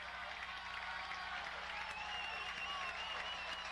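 A college football crowd at a Lycoming game cheers in a steady, distant roar, a continuous wash of stadium noise with no breaks.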